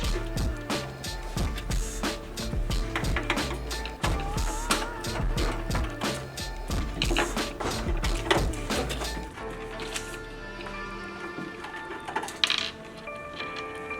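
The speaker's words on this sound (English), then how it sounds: "We want to take off these screws." Screws being taken out of the side of an Akai MPC 2000 XL sampler: close, busy metallic ticking, clicking and scraping of a screwdriver working against the casing in quick irregular bursts, settling into lighter taps toward the end.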